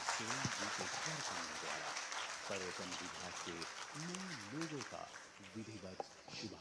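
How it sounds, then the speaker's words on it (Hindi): Applause at a government appointment-letter ceremony, a steady wash of crowd clapping under someone talking over a loudspeaker throughout. "तालियां जोरदार हो"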